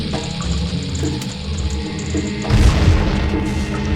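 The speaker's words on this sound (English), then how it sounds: "Okay, a lot of bombs." Bombs explode with a heavy, booming burst in Zelda: Ocarina of Time, a deep rumble rising midway over steady game music and ambience.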